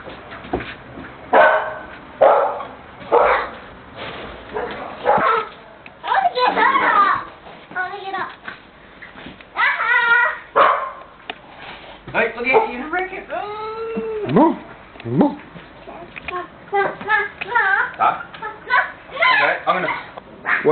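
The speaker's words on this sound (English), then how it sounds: "What a good dingo rat dog you are." A small dingo-type rat dog barks and whimpers indoors, short yips and whines scattered among a child's speech and other voices talking throughout.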